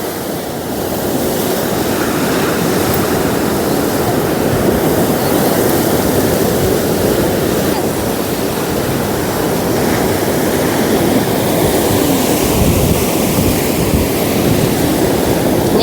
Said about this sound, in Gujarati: મોજા જોવે